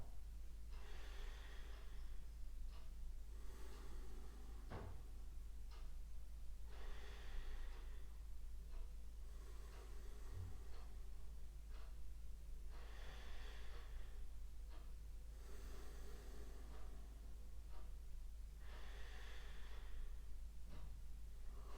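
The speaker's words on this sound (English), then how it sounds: "as you exhale a little bit slower than your inhale" Slow, deep yoga breathing during a full-body flowing practice, with full inhales and slightly longer exhales repeating in a steady cycle, close and soft, with no talking.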